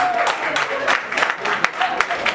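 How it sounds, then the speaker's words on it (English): A studio audience on a dating show claps in a brief, loose burst, with a voice talking over the applause throughout. "clap if you think they have kind of chemistry right now"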